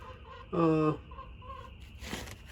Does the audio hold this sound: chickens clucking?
yes